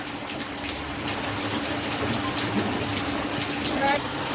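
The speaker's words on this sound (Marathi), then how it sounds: "का पाऊस बघा ना केवढा यायला लागलाय" Heavy rain pours down in a steady, dense hiss that stays loud and unbroken from start to finish.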